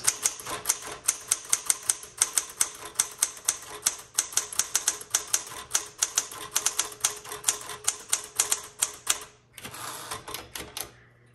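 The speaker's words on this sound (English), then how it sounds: "I can finish my word and then hit the return handle" Rapid, crisp keystrokes on a 1960s Galaxie II manual typewriter, repainted cherry red, clack in a quick steady rhythm close up, with a brief pause and a carriage return near the end, no voices.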